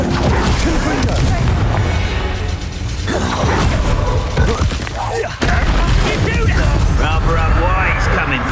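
Confringo spell blasts in Hogwarts Legacy combat, loud booming bursts mixed into a dense, continuous din of fighting, with voices talking over the action.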